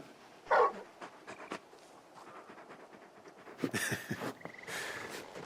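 Torgal, the giant wolf-dog companion in Final Fantasy XVI, pants in short close breathy bursts with a brief whimper, mixed with soft game ambience and small rustles.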